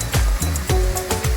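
Rushing water from a waterfall in Munduk, Bali, a loud steady roar with short surging pulses, close by with no voices.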